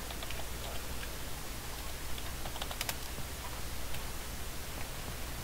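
Soft, quick clicks of typing on a computer keyboard to enter a walk command into a game console, faint and scattered above a steady background hiss, with no talking.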